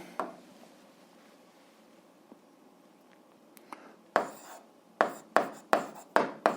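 A pen writes an algebra expression by hand on paper, starting with faint scratching, then a run of short, distinct scratchy strokes, close and fairly quiet, with no talk.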